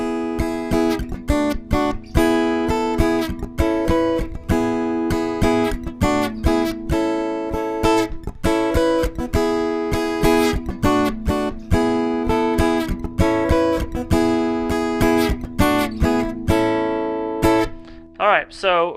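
Strummed acoustic guitar chords from the verse of a song, played steadily and continuously at close range with a bright, full chordal sound and no voice over it.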